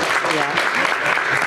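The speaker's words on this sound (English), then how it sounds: "Applaud, please applaud." An audience at a film Q&A session claps steadily in a dense, continuous wash of applause, with voices mixed in under the clapping.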